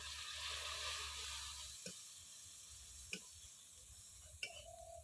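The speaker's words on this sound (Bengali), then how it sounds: "ভালো করে কষিয়ে নেব" Spices being sautéed with cabbage in a pan for a fish curry, a steady soft sizzle with a few sharp utensil taps against the pan, heard alone.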